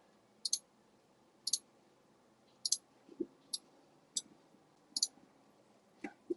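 A computer mouse clicks crisply and close by, single and double clicks spaced roughly a second apart over a quiet room background, with no talking.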